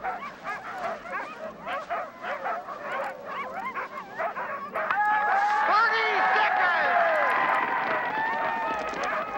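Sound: sled dogs barking and whimpering

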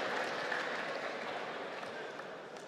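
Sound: audience applause at student senate debate

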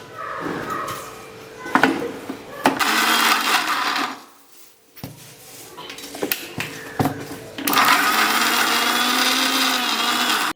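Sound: mixer grinding onion, garlic, green chili and ginger

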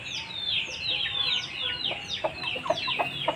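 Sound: blue rooster and chickens clucking

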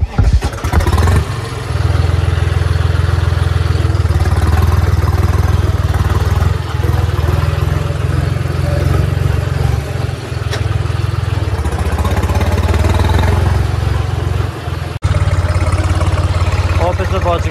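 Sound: tractor engine idling

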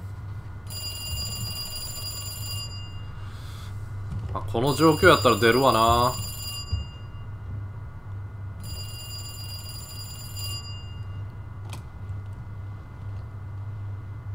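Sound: telephone ringing in the video game Resident Evil 2

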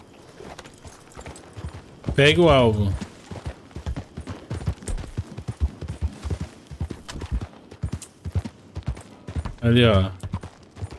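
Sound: horse hooves galloping in video game Red Dead Redemption 2 Online

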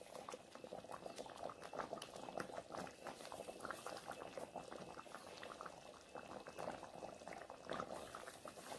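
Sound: wild mango kalan curry boiling in pot

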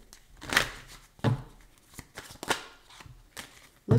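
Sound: shuffling tarot cards

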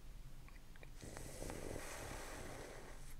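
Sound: Snorlax snoring in audiobook

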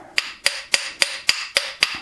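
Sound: hammer tapping on hydraulic motor part

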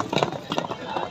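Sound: horse hooves clip-clopping

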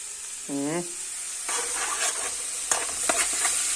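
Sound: tarhana being mashed and stirred in a pot with a spoon

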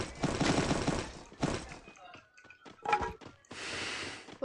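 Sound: gunfire in the video game Free Fire

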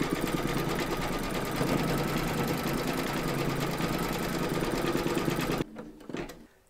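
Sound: embroidery machine stitching quilt block in cream thread

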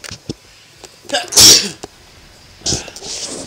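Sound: sneeze

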